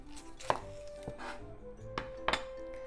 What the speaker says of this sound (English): Let's slice the onion. Cut the top and the bottom off.